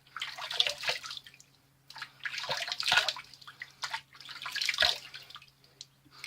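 Water splashes in three bursts as hands cup it and wet a face before a traditional double-edge wet shave, with quieter running water in between.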